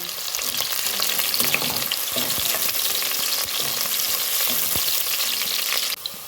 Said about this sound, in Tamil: நல்லா ஒரு கோல்டன் கலர் வர அளவுக்கு நல்லா வணக்கிக்கலாம்